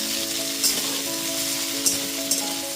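Drumstick and pumpkin vegetables cook in a pan with a continuous sizzle, punctuated by three brief scraping strokes as they are stirred; no one speaks.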